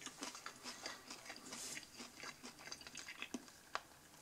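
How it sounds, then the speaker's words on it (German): Someone chews and bites a breaded Domino's chicken strip close to the mic: soft crunching and moist mastication in an uneven rhythm, quiet, with a couple of sharper crunches near the end. "Ich koste mal."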